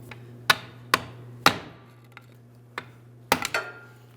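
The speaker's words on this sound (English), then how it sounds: "I'm going to use a hammer and a long pry bar." Hammer blows strike a long pry bar to tap a rear CV axle out of a 2005-2010 Chrysler 300 5.7L V8, several sharp metallic clanks spaced irregularly, close and loud, with no talking.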